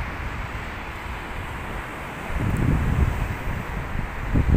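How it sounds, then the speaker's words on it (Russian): Wind buffets the microphone with a continuous rumbling roar that swells louder in gusts during the second half. "Такой ветер."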